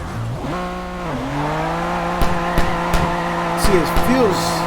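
Tires squeal steadily as a car drifts sideways in the video game CarX Drift Racing Online, a sustained pitched screech that bends and wavers with the engine, loud and close, with a few sharp clicks and someone talking over it.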